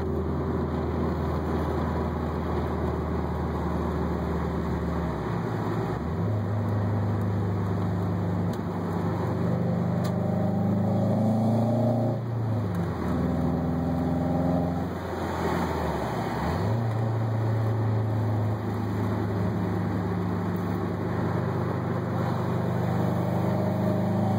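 A 2006 Subaru WRX fitted with an M2 exhaust drives along with the windows down, giving a steady, loud engine drone and exhaust note with a few dips and swells as it shifts or changes speed. No talking is heard.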